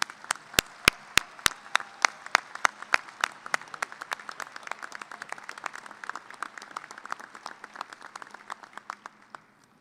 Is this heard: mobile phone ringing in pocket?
no